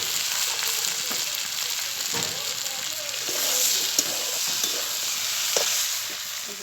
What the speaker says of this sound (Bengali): আজকে রান্না করছি কুমড়ো তরকারি, আমাদের গাছের কুমড়ো চিংড়ি মাছ দিয়ে